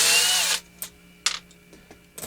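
A power drill drives screws into wood with a loud close whine that stops abruptly, followed by a few short separate bursts and clicks amid quiet.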